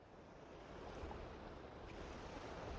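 Ocean waves wash onto the beach at Pawleys Island, a steady broad rush of surf that swells slightly louder midway and carries on without pause, with wind mixed in.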